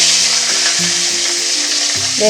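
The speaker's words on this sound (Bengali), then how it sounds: "তেলটা আমার খুব গরম হয়ে গেছে মাছটা আমি এখন কড়াতে দিয়ে দেবো" Pieces of aar fish hitting very hot mustard oil in a kadai, giving a loud, close, continuous sizzle and crackle that swells at the end.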